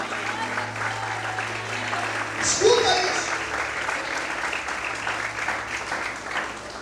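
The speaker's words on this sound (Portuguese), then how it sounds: "Por um minuto aplauda o Senhor." Continuous applause from a church congregation rolls on throughout, with a voice briefly speaking over it partway through.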